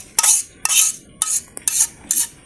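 Cooked pasta being plated with utensils gives several short scraping swishes and clinks against a dish, evenly spaced, close and distinct with quiet gaps between.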